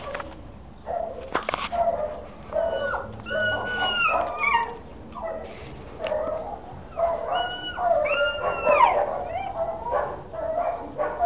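A badly neglected and abused dog whimpers close by in repeated high, wavering whines and soft cries that come in short bursts with brief pauses, and no one speaks over them.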